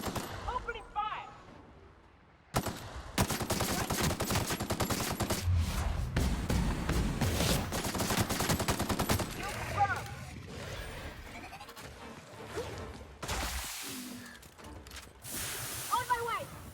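Rapid automatic gunfire bursts and shots in The Outer Worlds on PC, loud sustained volleys with brief gaps, mixed with game effects and character voice callouts.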